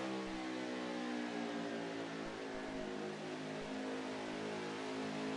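Race car engines in a video game racing championship drone steadily and evenly, with layered engine tones holding at a constant pitch and no voices heard.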